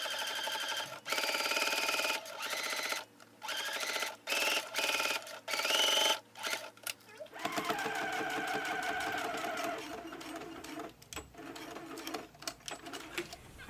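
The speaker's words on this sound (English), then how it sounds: "we just want to stitch close to the top edge to hold that down in place" A sewing machine runs in close, loud bursts of rapid stitching along the top edge of a foldover clutch bag, stopping and starting with short pauses, then settling into a slightly different steady rhythm.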